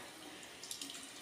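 A sink tap runs in a steady, close rush of water, even and unbroken for just over a second, with slight splashing toward the end.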